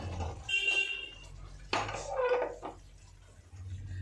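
In a home kitchen, a pot of simmering curry is lifted off the stove and a wok is set down, giving faint metallic clanks and a sharp clatter near the middle, with quiet background noise.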